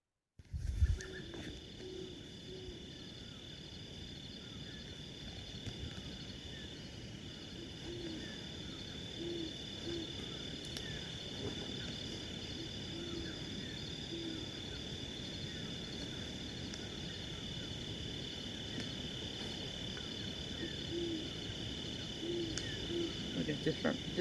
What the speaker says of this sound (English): And then the owl did a little tiny beep.